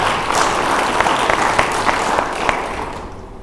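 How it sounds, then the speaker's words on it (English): Audience applause at a livestreamed conference session, a steady wash of many hands clapping with scattered sharper claps standing out, fairly even in loudness throughout. "Can we give them a big round of applause?"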